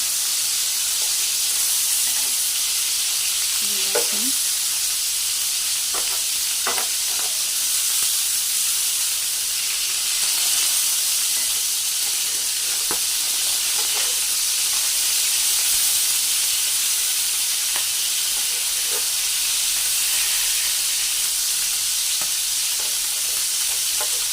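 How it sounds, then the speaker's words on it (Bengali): Lobster frying lightly in a pan gives a long, steady hiss and sizzle throughout, with occasional faint clicks and taps of a utensil. "আমি বেশি ভাজবো না, হালকা ভাজবো মাছটা।"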